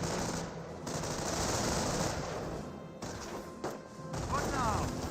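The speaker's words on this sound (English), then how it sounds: "And now the MG42 firing away." An MG42 machine gun fires in the Company of Heroes strategy game amid a dense battle din, with sustained rattling bursts, crashes and a brief pause, loud and continuous.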